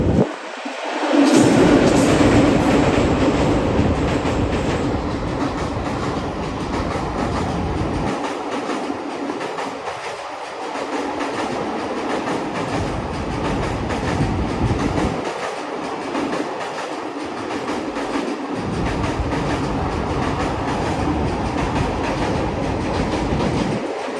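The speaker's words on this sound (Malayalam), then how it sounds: "ഒരു ട്രെയിൻ കൂടി നമുക്ക് അവിടുന്ന് വരുന്നുണ്ട്" A train rushes past at high speed near the banks of the Bharathapuzha river in Palakkad, a loud, sustained rumble and clatter of wheels on rails that rises and falls in waves as the carriages go by.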